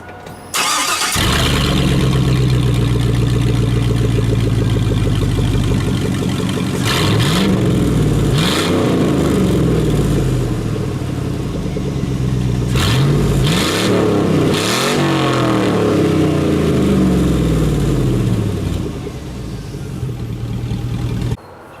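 Car engine with the exhaust removed starting up and revving hard, loud and raw, with repeated rising and falling revs over a steady idle drone.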